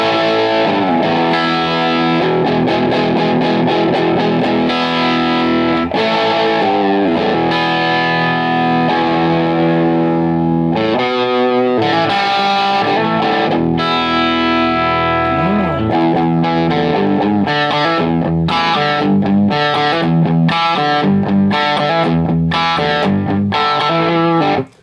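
An electric guitar is played through a Honey Bee Overdrive pedal with the drive close to maximum, giving a thick, saturated tone of continuous chords and riffs that sounds loud and unbroken for about twenty-five seconds.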